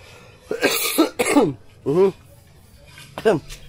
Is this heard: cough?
yes